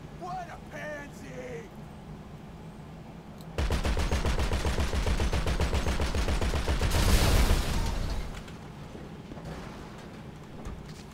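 Rapid automatic gunfire in GTA 5 Online, a dense burst of shots lasting several seconds that swells louder near the end, with a voice speaking briefly before the shooting starts.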